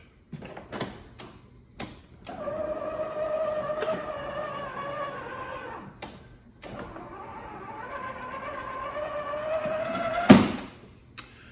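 The electric motor of a Huffy Tonka 12V ride-on dump truck whines at a steady high pitch in two long runs, with a few clicks and a sharp knock near the end.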